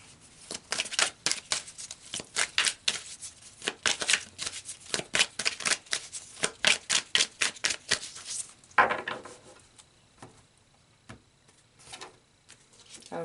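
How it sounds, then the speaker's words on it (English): Tarot cards are shuffled close up in a fast run of crisp riffling flicks for several seconds. Softer slides and taps follow as cards are pulled from the deck and laid down. "Okay, so let's pull some more cards."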